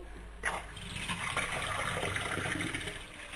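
Water gushes steadily for about three seconds as it is poured until it overflows, a continuous close splashing stream with no talk.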